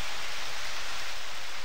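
Steady rain in the farming game Harvest Moon, a soft, even hiss of falling water that stays constant and fairly quiet, with no voices over it.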